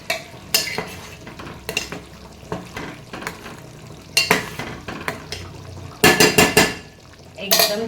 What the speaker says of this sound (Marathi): आता मी यात फिश घालणार आहे।